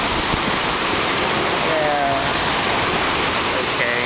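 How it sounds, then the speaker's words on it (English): Ocean swell surging and washing over rocks along a rocky shore, a steady broadband roar of churning, frothy water filling the whole stretch, with brief faint voices beneath. "one more swell coming in"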